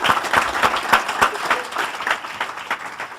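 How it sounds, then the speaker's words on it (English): A crowd at an Illinois Supreme Court candidates forum applauds steadily, many hands clapping in a dense, fairly close round that holds for several seconds without fading. "Let's give them another round of applause,"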